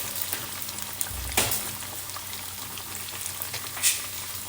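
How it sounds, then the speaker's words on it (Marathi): Kothimbir vadi, coriander fritters, fry in hot oil with a steady, fairly quiet bubbling sizzle, broken by a couple of brief louder splashes or spoon taps. "याला मी फ्राय करून घेते छानपैकी"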